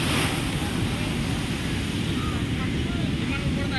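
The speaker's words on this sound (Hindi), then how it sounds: "देखो समुद्र की लहरें" Sea waves on the Goa coast give a steady, loud wash of surf with wind buffeting the microphone, continuous and unbroken throughout.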